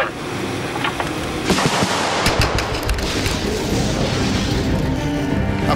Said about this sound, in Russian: Мы специально поставили рядом два газовых баллона, чтобы проверить точность стрельбы этой автоматической системы.